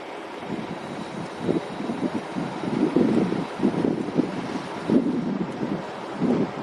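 Steady wind buffets the microphone at Boca Chica beach near the Starbase launch site, with a broad rushing roar and soft surf swells rising and falling through the whole stretch, no talking.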